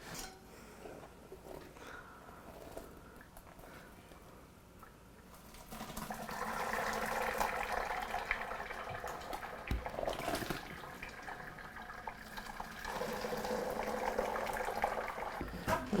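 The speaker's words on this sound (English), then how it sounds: "I just have this fine mesh strainer, and we're just gonna put it right into here." Cranberry juice drains through a fine mesh strainer into a pot, a soft trickle that swells into a steady, continuous pour and splash in the second half.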